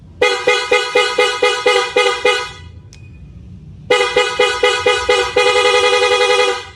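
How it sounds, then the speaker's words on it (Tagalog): Loud, close honking from a Suzuki Raider 150 motorcycle horn on new wiring: a rapid string of short beeps, a brief pause, then another quick burst ending in a longer held blast. "Tapos yung tunog ng busina mga sir,"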